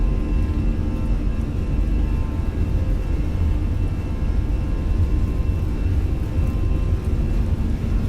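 Airbus A320 jet engines spooling at takeoff thrust in a flight simulator, a steady loud roar with deep rumble and whine that holds constant throughout, with no talk over it.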